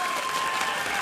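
An esports arena crowd at a League of Legends LCS match claps and cheers loudly, a dense, sustained wash of applause from many hands.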